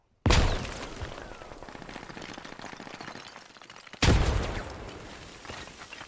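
Gunfire and explosions rage in the multiplayer video game Squad, two heavy booming blasts separated by dense, continuous rattling shots and crackling battle noise.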